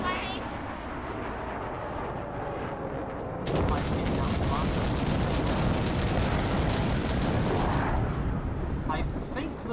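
A bomber blast erupts in a wargame tournament video game: quiet, murmuring play gives way to a sudden, loud, sustained rumbling explosion, while a voice talks throughout.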